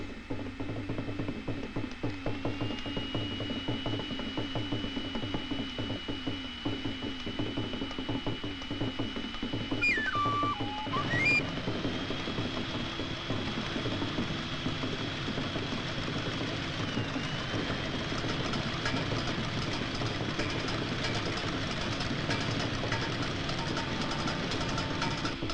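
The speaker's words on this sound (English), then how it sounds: "Parts like the engine, carved out of cast iron in Trenton, Michigan, on machines made in the Midwest." Factory machinery machining cast iron engine parts in Trenton, Michigan, gives a steady mechanical whirring and ratcheting hum with a few rising and falling tonal sweeps, heard faintly and continuously throughout.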